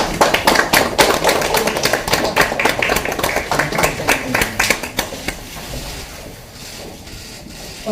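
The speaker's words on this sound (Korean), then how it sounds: "입장하고 계십니다. 큰 박수로 맞이해 주시기 바랍니다." A crowd at a Democratic Party election committee meeting in Busan greets party leaders as they enter. Brisk, close, dense clapping gradually thins out and fades to quiet.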